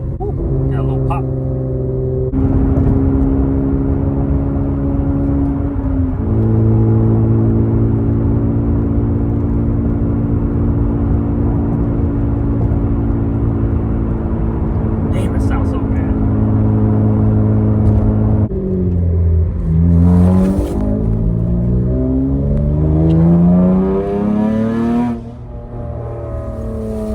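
An Acura TL with a catless straight-pipe exhaust revs repeatedly, the engine note rising and falling in loud, raspy sweeps, with someone talking over it at times.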